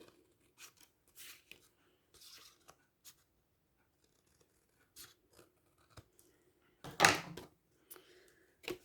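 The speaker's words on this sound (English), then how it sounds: "I'm just going to grab my scissors and just cut along that line" Scissors snip through paper in a series of short, irregular cuts, close and fairly quiet, with a louder crunch near the end.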